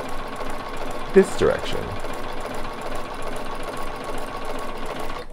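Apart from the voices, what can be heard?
Bernina 770 Plus sewing machine stitching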